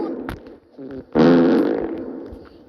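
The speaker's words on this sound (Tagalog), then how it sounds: "magsusuper utot na tayo" A loud, close, sputtering fart from a poop-themed video game follows a few quieter clicks and taps, then trails off into a long, rough rumble.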